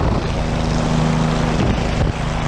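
A helicopter flying overhead, its engine and rotor giving a steady, loud droning hum with a sustained tonal whine that holds through most of the stretch.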